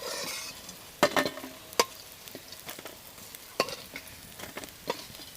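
Shrimp fritters fry in hot oil in a village kitchen, a soft steady sizzle broken by several sharp crackles and pops at close range, with no talking.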